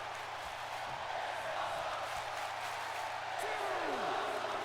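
Arena crowd in the WWE 2K20 wrestling video game chanting in a steady, continuous roar of massed voices, moderately loud with no clear beat standing out.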